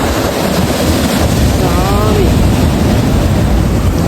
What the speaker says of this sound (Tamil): இந்த கடல் அலைகள் அப்படியே சீறி பாஞ்சு இவங்கிட்ட என்கிட்ட வருது